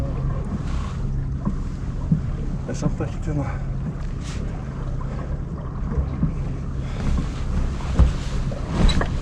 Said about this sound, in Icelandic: Já, það er að koma vindur hérna.